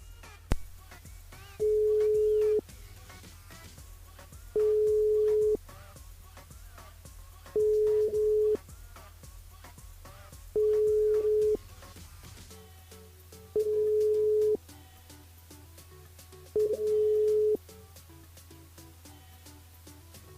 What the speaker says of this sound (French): Donc, on appelle Alexis